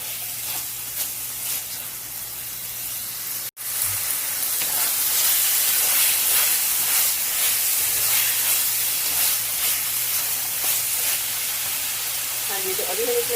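Chicken and potatoes sizzle steadily in a hot pan, a continuous loud hiss with a brief break partway through, and a voice speaks over the frying.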